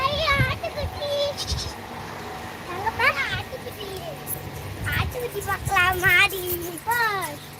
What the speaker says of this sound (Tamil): ஆட்டுக்குட்டி